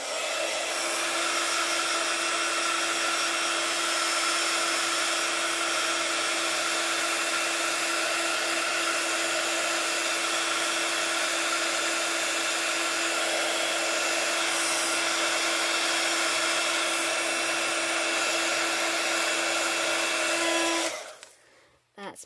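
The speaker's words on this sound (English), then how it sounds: "Okay, so I'm just going to quickly get my heat tool." A heat tool blows steadily to dry paint on a wooden butterfly coaster, a loud, even whooshing drone held for about twenty seconds before cutting off abruptly at the end.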